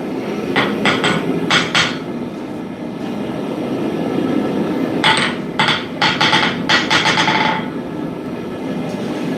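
A blacksmith's hammer strikes metal in short bursts of sharp, ringing blows: a few quick clusters early on and a denser run of strikes in the middle, heard over steady background rumble from the smithy.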